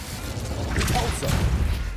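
Incendio fire spell cast in Hogwarts Legacy, a short burst of roaring, crackling flame with a whooshing rush, loud and close, lasting about two seconds.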